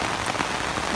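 Heavy rain pours steadily in the Philippines, a dense, unbroken hiss of drops pattering on a surface close by, loud and constant with no voices over it.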